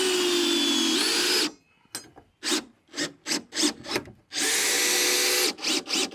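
A power drill whines loudly while driving screws into wood for an outdoor pond-side shower build, with two long sustained runs separated by a quick series of short stuttering bursts and pauses.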